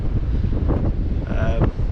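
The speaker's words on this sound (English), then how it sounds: "as you can probably hear, it's too windy." Wind buffets the microphone on the coast while sea fishing, a low, rumbling roar, steady throughout, with faint voice-like murmurs underneath.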